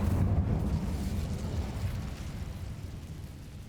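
Fiery burst of the Incendio fire spell in Hogwarts Legacy, a loud whooshing roar that swells at once and then slowly fades over a few seconds, with no voices.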